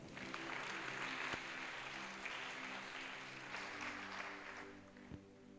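Sustained applause from a church congregation, even and continuous hand-clapping with a soft organ-like drone beneath, moderately distant, easing slightly toward the end.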